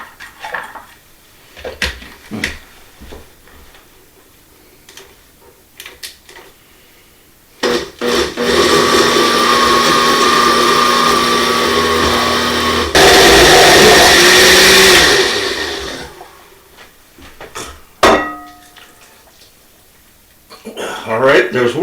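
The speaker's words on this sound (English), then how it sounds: "And let's throw it in the blender." A blender purées butternut squash soup in a home kitchen, a loud steady whir running for about seven seconds that rises in pitch near the end, framed by clattering pots and utensils and bits of talk.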